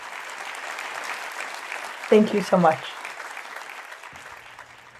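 An audience applauds to close a church talk on the emotional life of teenagers, a steady, moderate wash of clapping with a brief spoken thanks over it midway before fading.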